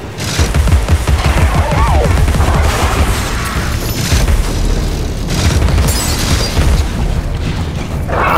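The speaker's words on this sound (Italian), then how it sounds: "Spari." Rapid, loud gunfire and booming blasts from the video game Alice: Madness Returns, dense and continuous with overlapping shots and explosions throughout.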